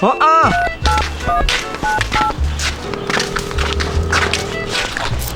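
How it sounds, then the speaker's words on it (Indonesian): Telephone keypad tones beep in a quick series of short dialing notes, clear and close, mixed with voices talking and a cartoon-like soundtrack with bright effects. "Kita telepon tukang."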